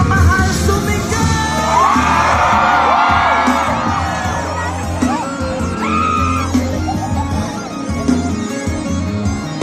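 Large outdoor concert crowd at Tagaytay Concert Grounds shouting, yelling and cheering loudly and continuously, a dense roar of many voices with whoops rising above it.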